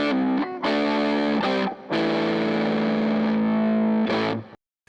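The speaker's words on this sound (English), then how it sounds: "listen to that dude with the guitar" A distorted electric guitar chugs out a heavy riff, loud and close, with sustained power chords broken by short choppy stops before cutting off abruptly.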